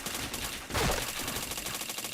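Video game gunfire rattles in a rapid, continuous burst, with one heavier shot standing out, all under a steady layer of game noise and no talking.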